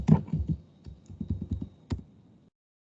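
Computer keyboard keys clicking in an irregular burst of typing, a handful of quick taps then a final sharp keystroke, close and fairly quiet with no voices.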